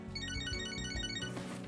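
A cell phone ringtone from the video game Catherine: Full Body plays a bright, repeating melodic chime pattern, moderately loud and alone, cutting off near the end.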